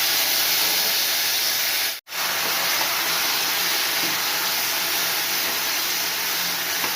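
Cooked bottle gourd and Malabar spinach curry hits a hot mustard-seed tempering and sets off a loud, steady hiss of sizzling oil that holds throughout, broken once by a brief cut-out.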